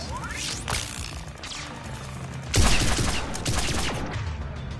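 Turret gunfire in the video game Mass Effect 3, a loud, dense burst of shots and impacts with whooshing sweeps early on, then a heavy crashing volley near the middle that keeps rattling to the end.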